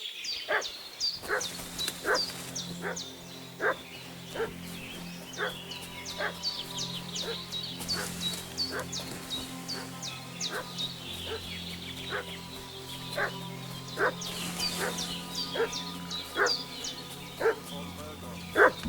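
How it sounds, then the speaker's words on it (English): A dog barks in a village in Kingdom Come: Deliverance II, giving steady, evenly spaced barks for nearly twenty seconds over a low ambient hum, with fowl-like chatter now and then. "What's that dog making such a fuss about?"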